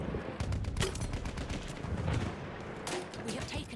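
Battlefield 1 multiplayer combat with rapid bursts of gunfire, repeated cracks and automatic volleys at moderate distance, overlapping continuously throughout at a fairly quiet level.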